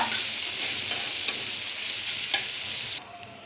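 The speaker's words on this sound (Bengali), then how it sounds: "এই যে আলু পেঁয়াজ একসাথে, এখন এটাকে আমি নেড়ে ছেড়ে মিশিয়ে নিব।" Potatoes and onions frying together in a pan, with a steady high sizzle and a few soft scraping stirs; the sound drops off near the end.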